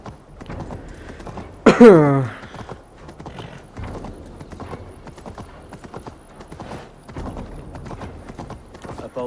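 Hooves clip-clop steadily from a horse in the Assassin's Creed Valhalla video game, with a brief loud whinny near the start and voices speaking over the rhythmic steps.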